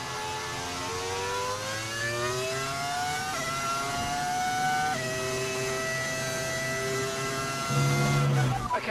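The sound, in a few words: F1 25 video game car engine with audio mod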